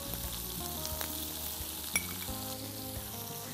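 Chicken frying in a pan on a cooking show, a steady close sizzle with occasional scrapes and knocks as it is stirred, no talking.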